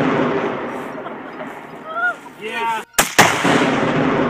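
Sure Shot exploding target detonating right after a rifle shot outdoors among trees, a sharp loud double blast cutting through a windy, noisy background, with a voice speaking briefly.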